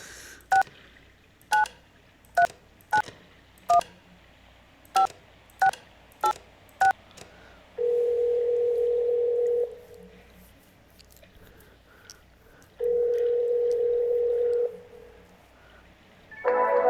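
Telephone keypad dialing in the video game Kentucky Route Zero: a dozen crisp, evenly spaced DTMF beeps, then two long steady tones separated by a pause, with a brief burst of sound at the end.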